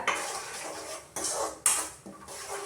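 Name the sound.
stirring curry with spices in a pot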